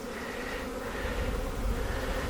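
Honey bees buzz inside a crowded hive box, a dense, steady drone close up with no talking.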